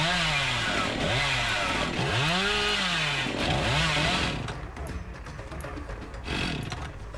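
Chainsaw in the Dead by Daylight horror video game revving loudly and steadily, with rising and falling whines sweeping up and down throughout, easing somewhat toward the end; no talking.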